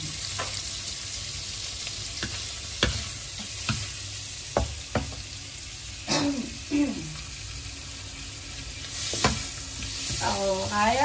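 Vegetables and shrimp are stir-fried in a hot wok, with a steady sizzle broken by repeated scraping clacks of the utensil against the metal and louder bursts where the food is tossed.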